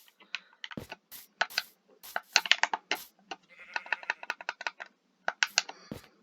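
Sheep bleat repeatedly in the Minecraft video game while an underground wool farm is filled, the game bleats mixed with quick clicky keyboard-like tapping, fairly quiet with no talking.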